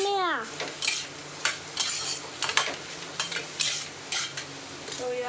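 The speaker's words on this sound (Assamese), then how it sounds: "এয়া বিন গাজৰ আলু মিক্স এনেকৈ ভাজি বনাম।" A mix of beans, carrot and potato is stir-fried in a pan. A low sizzle sits under repeated scraping and clattering spatula strokes that come in an irregular rhythm, close and clear.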